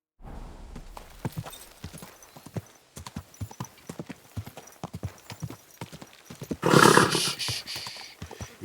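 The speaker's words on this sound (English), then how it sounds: "Easy, good horse." Steady clip-clop of horse hooves trotting at a brisk, even rhythm in a video game, close and clear, with a loud horse whinny bursting in near the end.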